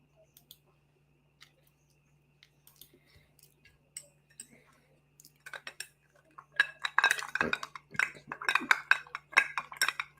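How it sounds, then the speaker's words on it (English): A bar spoon stirring an old-fashioned made with expensive whiskey, with sparse light clinks at first that build into quick, repeated clinking against glass and ice near the end, fairly quiet with no talk. "Stirring the old-fashioned."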